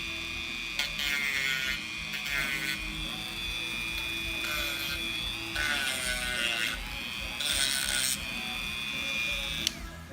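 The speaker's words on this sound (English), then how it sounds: "just straight up start using the Dremel. And I'm gonna do it on the low setting first, just see what happens" A Dremel rotary tool runs on its low setting, a steady high whine that swells into louder grinding bursts as it scratches against a toy, heard close up.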